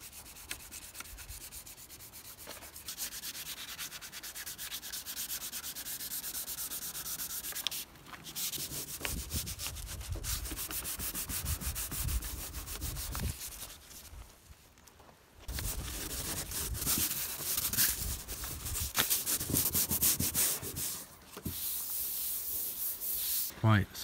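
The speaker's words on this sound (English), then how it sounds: "taking days of just literally wet sanding properly" Rhythmic rubbing and scraping of wet sanding on a Skoda Octavia vRS car panel, long back-and-forth strokes close by, pausing briefly a few times before resuming.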